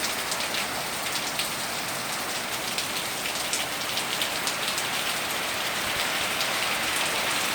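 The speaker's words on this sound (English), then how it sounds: "Oh, there's some heavy rain." Heavy rain pours down steadily, a dense, loud hiss of drops hitting surfaces throughout with no voices.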